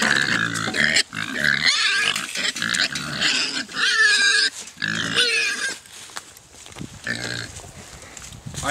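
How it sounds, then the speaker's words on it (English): Hogs on a farm grunt, squeal and oink close by in lively overlapping bursts, with a few short pauses between the noisy stretches. "So let's get to the hogs."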